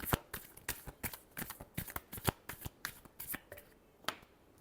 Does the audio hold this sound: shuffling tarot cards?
yes